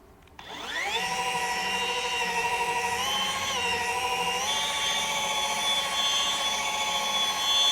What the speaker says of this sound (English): This is a rotary, it's not a DA, so, we're going to keep it flat